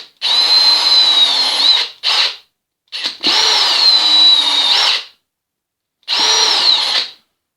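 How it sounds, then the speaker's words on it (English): Power drill boring a pilot hole into a 10mm-wide strip of wood, loud whining bursts of about a second or two each with short pauses between, close to the microphone. "You've got to drill a pilot hole"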